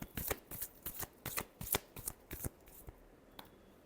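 Tarot cards shuffled in a quick run of crisp, papery riffling bursts, close and fairly loud, thinning out and stopping near the end, with no talking.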